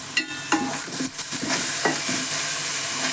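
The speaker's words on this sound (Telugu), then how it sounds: "ఈ టమాటా పేస్ట్ కూడా పచ్చివాసన పోయేంత వరకు ఫ్రై చేసుకోవాలి కలుపుతూ" Tomato paste fries in a pan for a fish curry with a steady sizzle, while a spoon stirs it with several scraping clinks against the pan, close and clear.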